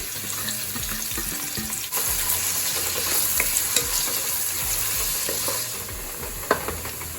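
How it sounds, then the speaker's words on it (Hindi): Onions sizzle and crackle steadily in hot oil as they brown for egg keema, with occasional stirring scrapes and clinks of a spoon against the pan. "अब ये डाल देंगे इसमें और इसे ब्राउन करेंगे।"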